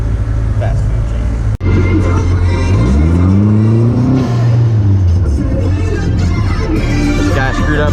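A Vanderhall car accelerating hard, its engine note climbing in rising sweeps and then easing off, loud and close over steady road noise, with a brief sharp knock early on.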